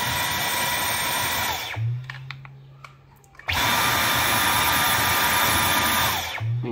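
A Dyson cordless vacuum cleaner in eco mode gives a loud, close, steady whooshing whine, cuts out for about a second and a half, then starts up again at full level.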